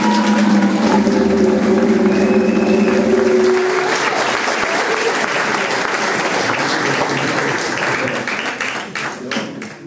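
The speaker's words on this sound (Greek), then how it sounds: "Χειροκροτήστε τον λοιπόν, ο Στάθης ο Γατζίας." Audience at a carnival concert by the Lefkada Philharmonic applauds a clarinet player, a long burst of clapping that starts under a held band chord and fades toward the end.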